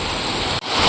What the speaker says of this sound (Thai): น้ำไหลลงไปทางนี้หมดเลยค่ะ